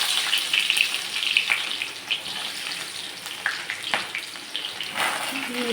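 Onion, garlic and ginger fry in hot oil for a veg Maggi, a busy close sizzle with crackling bursts that settles slightly toward the end.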